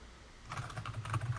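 After a brief quiet moment, fast, forceful keystrokes clatter on a computer keyboard in a dense run of faint clicks, with no voices.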